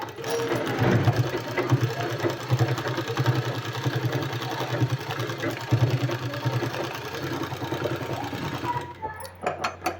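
A sewing machine runs steadily for most of the stretch as it stitches fabric for palazzo pants, then stops near the end, followed by a few light clicks.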